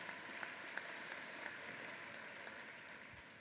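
Audience at a university spring convocation claps in a faint, distant, even patter with a few sharper individual claps standing out.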